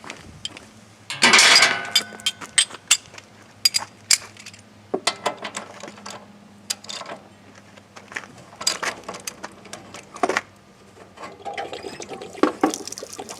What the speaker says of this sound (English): then you pull that pop-off valve. It'll drain pretty quick.